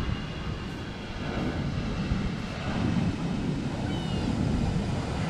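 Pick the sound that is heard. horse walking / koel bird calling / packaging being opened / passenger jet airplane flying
passenger jet airplane flying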